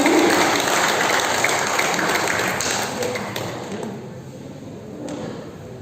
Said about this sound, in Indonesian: Kita berikan tepuk tangan untuk calon nomor urut 1.